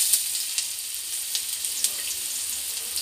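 Ginger frying in a little olive oil gives a steady close sizzle dotted with small crackling pops throughout, with no voices.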